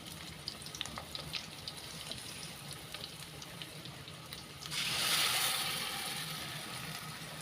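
Ground masala hits a pan of frying onions for egg sambar in a village kitchen, bursting into a loud, close sizzle that swells sharply and then settles into steady frying hiss, with no talking.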